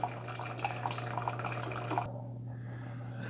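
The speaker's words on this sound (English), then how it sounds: "Okay, so it ran another 12 ounces of water through." Water running through a Keurig K-Express single-serve coffee maker during a vinegar descaling cycle, a steady pouring and trickling flow over a constant low hum that stops abruptly near the end, leaving quieter dripping.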